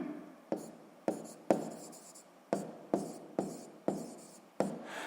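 Handwriting during a sixth-grade maths exercise: about nine quick, scratchy strokes and taps arrive in an uneven rhythm, each fading into a soft rub. The sounds are close and clear, with no talking.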